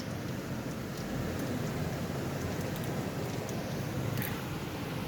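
Rain falls steadily outdoors in a village as a dense, even hiss of drops hitting surfaces, with a few faint brighter patters above it and no break through the whole stretch.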